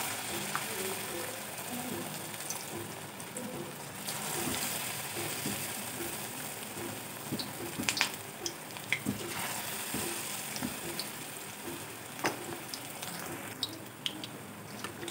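Onion pakora batter sizzling and crackling steadily in hot oil, a dense continuous fry with occasional sharper pops as pieces are dropped in, fairly close.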